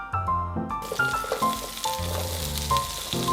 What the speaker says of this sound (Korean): 팬에 식용유 두 큰술 두르고 감자를 먼저 넣고 볶아주세요.